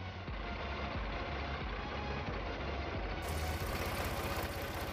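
Swaraj 855 tractor with power steering and hydraulics, freshly repaired, runs after starting: a steady, loud diesel chug with rapid rhythmic knocking that continues without a break and picks up slightly near the end.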